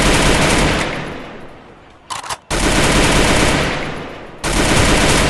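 Loud, sustained automatic gunfire from a video game shootout, with dense rapid bursts that briefly break off and then resume.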